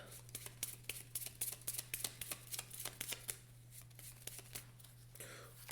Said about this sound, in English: I gotta shuffle to draw any cards for my new hand